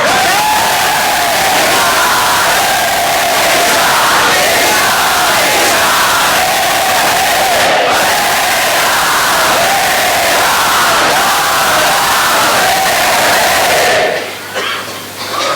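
A large crowd roars and chants loudly and continuously for many seconds, then the din cuts off abruptly near the end.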